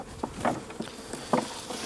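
Soft insect buzzing hums close by, rising and fading in short bursts as bees move around, with no voices.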